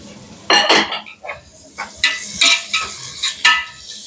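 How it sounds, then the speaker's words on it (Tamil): Green chilies and onions being sautéed in a pan, with a soft sizzle under sharp scraping strokes of a spoon against metal, about six or seven bursts in an uneven rhythm, close and fairly loud. "அந்த பச்சை மிளகாய் போட்டு ஒரு வதக்க போறேன்"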